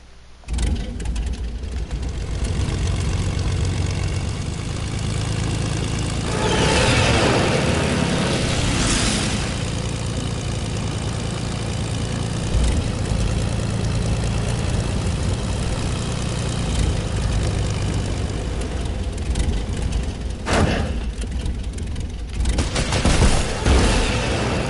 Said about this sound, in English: we are going to take a plane.